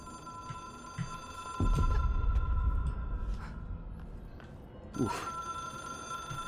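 A telephone rings continuously in the video game Control, a sustained electronic bell tone with low rumbling thuds and movement sounds underneath.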